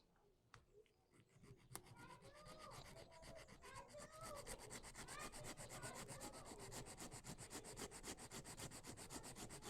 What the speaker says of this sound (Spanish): Voy a limar los laterales.